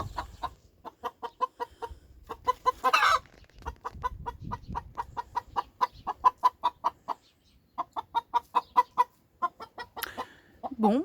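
Hens of a new pointed-tailed breed, birds once thought to be roosters, cluck in steady rapid runs of short notes with brief pauses, fairly close and clear, with a few louder squawks mixed in.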